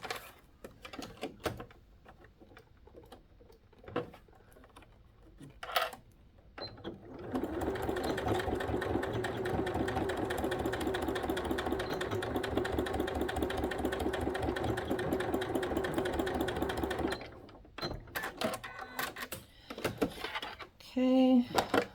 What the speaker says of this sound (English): You'll need to back stitch that just to hold it in place.